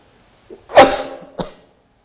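Someone coughs during a Buddhist monk's dharma talk: one sharp, close cough followed a moment later by a shorter second cough, with silence around them.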